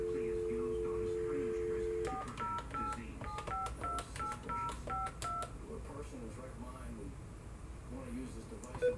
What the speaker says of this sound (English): we'll try the number that I was gonna dial anyway